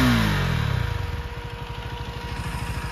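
A Husqvarna 250 motorcycle with a KTM engine and an R1M-type exhaust revs briefly and then settles into a loud, close, rapid idle burble that holds steady, with no talk over it.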